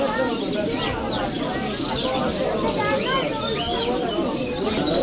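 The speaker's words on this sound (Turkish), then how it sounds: "İlk defa bu kadar büyük bir güvercin görüyorum ben." Large Afghan pigeons coo at an old market, their low calls and scattered chirps mixed into a dense, steady bustle of crowd chatter and voices throughout.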